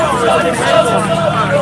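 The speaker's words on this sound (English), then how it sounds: "Look at the crowd." A large crowd gathered outside at a Tommy Robinson rally in Stockport makes a dense babble of overlapping voices and chatter, steady and close, with no single voice standing out.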